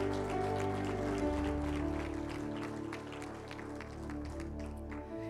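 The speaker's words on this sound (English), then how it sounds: "Give God a hand clap." A church congregation applauds together after a prayer, a steady wash of hand claps that stays fairly soft and even throughout, with no voices on top.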